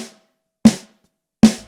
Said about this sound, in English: And here's a random snare sample.